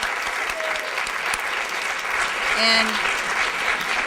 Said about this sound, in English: so he gets his own little round of applause